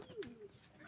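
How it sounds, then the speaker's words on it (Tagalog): A pigeon gives a soft, low coo at close range, a brief faint gliding call over quiet background noise. "Yan mga kalapatids, oh."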